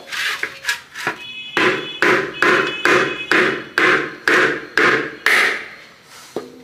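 Leftover ceramic tiles are struck repeatedly to break them into pieces, a series of about a dozen sharp, close cracking knocks in a fairly even rhythm, each followed by a brief rattle.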